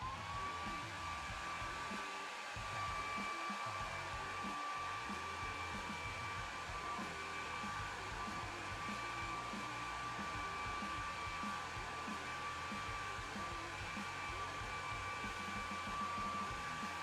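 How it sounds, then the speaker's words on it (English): A hairdryer blows steadily and alone for the whole stretch, drying paint on a World Eaters Lord Invocatus miniature, its dense whooshing roar with a faint whine staying close and even throughout. "let me give this a blast with a hairdryer"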